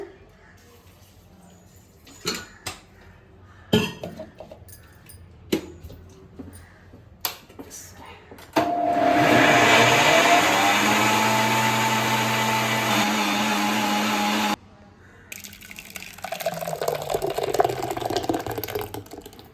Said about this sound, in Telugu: మిక్సీలో మనం పెసలు ఆడుకోవాలి పెసరట్లు వేసుకోవడానికి